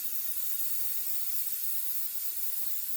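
Hairspray hisses from an aerosol can onto a model train layout embankment, one continuous, soft, airy spray lasting a few seconds, close and alone.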